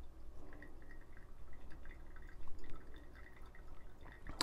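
Hot water trickles steadily over coffee grounds in a pour-over brewer, a soft continuous drip and stream with faint splashes, close and quiet with no talking.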